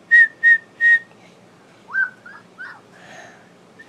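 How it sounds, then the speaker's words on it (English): A young girl whistles three short clear notes in a row, then a few softer wavering, bending whistles, close by in a quiet room. "There's a little whistle."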